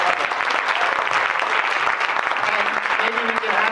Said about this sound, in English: could you give everybody please a round of applause